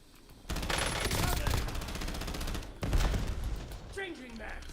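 Rapid automatic gunfire from a video game streamed on Xbox Cloud rattles in two loud bursts separated by a short pause, with a voice speaking faintly underneath.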